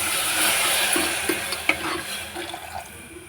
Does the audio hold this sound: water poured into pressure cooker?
yes